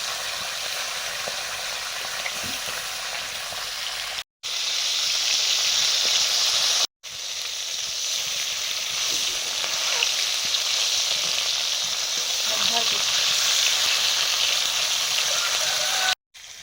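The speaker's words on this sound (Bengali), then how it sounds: "এখন মাছ ভাজছি" Fish frying in a pan in a home kitchen, a steady loud sizzle that runs almost without pause, broken only by two brief cuts, with faint clinks and stirring under it.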